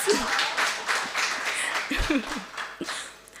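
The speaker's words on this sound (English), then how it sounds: "I'd like a round of applause for that." Scattered applause from an audience at a university launch event, mixed with some talking and cheering voices, moderately loud and fading slightly toward the end.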